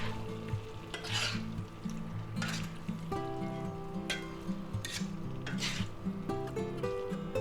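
Beef pepper steak stir fry with mushrooms and vegetables being stirred in a hot pan, a continuous sizzle with repeated scraping strokes of the utensil, close and clear, no voices.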